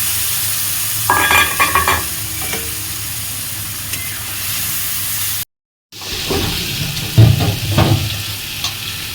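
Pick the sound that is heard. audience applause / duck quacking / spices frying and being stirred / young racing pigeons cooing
spices frying and being stirred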